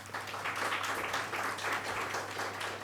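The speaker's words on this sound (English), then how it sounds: "Don't you think they deserve a round of applause for that?" An audience applauds the performers at the Kalari Academy martial arts anniversary celebration, a soft, distant wash of many hands clapping over a low steady hum.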